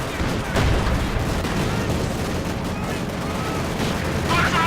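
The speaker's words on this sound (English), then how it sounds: "Quickly hitting up there with anti-tank grenades." Dense gunfire and grenade blasts from the World War II strategy game Company of Heroes 2, a steady loud battle roar of rifle and machine-gun fire with booms, alongside anti-tank grenades thrown at a Panzer IV and a field gun.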